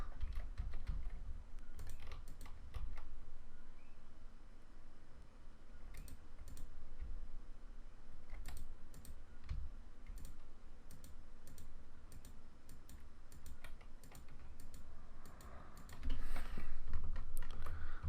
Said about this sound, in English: I also have to align these layers too, so I'm also just going to use the arrow keys to align them.